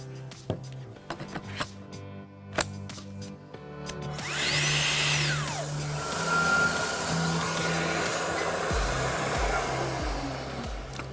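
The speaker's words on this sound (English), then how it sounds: "remotely operating the Festool extractor as shown" A Festool extractor starts up when the saw switches it on over Bluetooth, a rising whine that settles into a steady, loud airy roar after some scattered knocks and clicks at the start.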